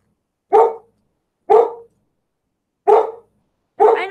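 A dog, Marissa, barks indoors at kittens: four loud, sharp barks spaced about a second apart, close by, with silence between them.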